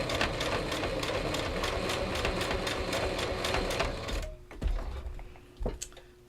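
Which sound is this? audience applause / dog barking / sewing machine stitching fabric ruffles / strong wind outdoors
sewing machine stitching fabric ruffles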